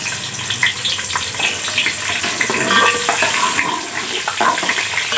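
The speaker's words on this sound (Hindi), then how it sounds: "इसका साबुत गरम मसाले का भुनान लगाएंगे।" Whole garam masala spices frying in hot oil, a steady dense sizzle and crackle with scattered small pops that holds at an even level without any talk.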